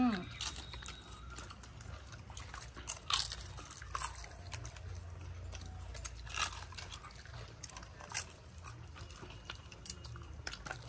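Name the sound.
crunching papad while eating mutton curry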